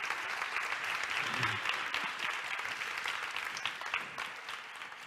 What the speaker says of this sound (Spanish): Un aplauso para el vídeo